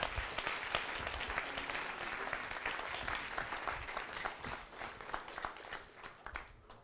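Audience clapping after a lecture by a film director at a university hall, dense sustained applause from many hands that thins toward the end.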